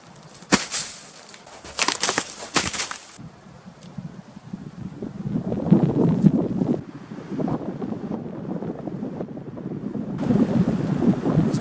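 Gusty wind at a winter campsite, buffeting the microphone in roaring, uneven surges that rise and fall, loud and close, with a few sharp rustling knocks early on.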